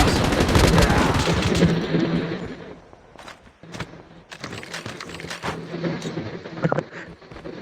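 Rapid bursts of gunfire from the Call of Duty video game crackle in quick volleys, dense and loud at first, pausing briefly, then resuming in scattered sharp shots.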